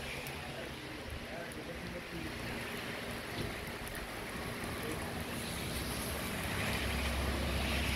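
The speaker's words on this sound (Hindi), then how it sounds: "बहुत ज़बरदस्त बारिश लगी है" Heavy rain with hail pours continuously, a dense steady hiss that grows slightly louder toward the end, with faint voices beneath.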